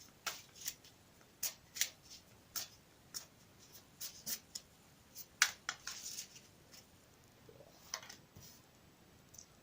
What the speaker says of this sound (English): I'll shuffle it again for you on camera.